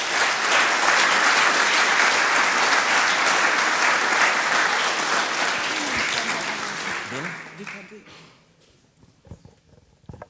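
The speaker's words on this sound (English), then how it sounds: "give an applause please to Hetzner and to Rheinschafe." A full conference audience applauds sponsors with dense, loud clapping for about seven seconds, then it thins out and tapers to a few scattered claps.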